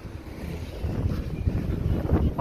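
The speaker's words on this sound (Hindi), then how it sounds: "हवा इतनी तेज़ चल रही है यहाँ पे" Strong wind buffets a microphone outdoors among large buildings at a festival in Ljubljana, Slovenia, a steady low rumble with louder gusts building toward the end.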